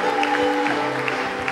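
A church congregation acclaiming Jesus with applause, a steady wash of clapping from the crowd mixed with a held tone and faint voices, continuous and fairly loud.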